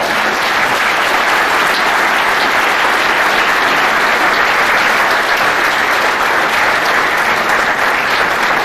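An audience gives steady, dense applause to welcome award recipient Roger Kirby, sustained and loud throughout with no break or talk.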